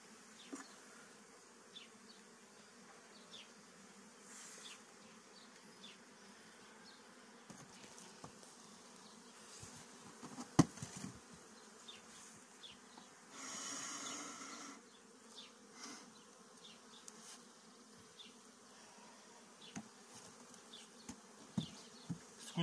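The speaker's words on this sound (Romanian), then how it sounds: "Scuturăm albina care a mai rămas." Honeybees buzz around an opened beehive frame, a soft continuous hum with a few louder passes near the listener and occasional handling knocks.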